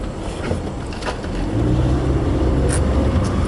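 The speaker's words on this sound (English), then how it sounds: "There goes the second car." A car rumbles past close by, its engine and road noise swelling to a steady loud roar in the second half as it goes by.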